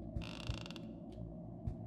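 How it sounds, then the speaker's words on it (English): Creaking and mechanical ratcheting in the horror video game Mr. Hopp's Playhouse, a bright grinding creak over a steady low hum with a few dull thumps, no talking. "Hear all that creaking?"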